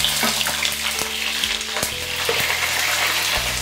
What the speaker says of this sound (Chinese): 现在把鲳鱼切好放进去